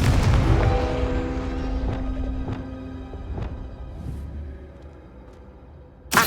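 A Confringo fire spell bursts in Hogwarts Legacy with a loud, booming blast that rolls off into a long fading tail, followed by a few faint thuds and a sharp hit at the very end.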